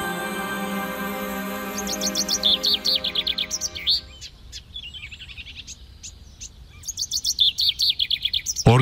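Wild birds on the alluvial Samsun plains chirp in rapid, repeated tweeting bursts, loud at the start and again near the end, with a steady low hum beneath and a quieter stretch in the middle.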